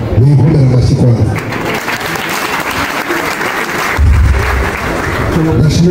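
A large audience at a comedy show gives sustained, loud applause that fills the whole moment, with a voice speaking over the clapping at the start and again near the end.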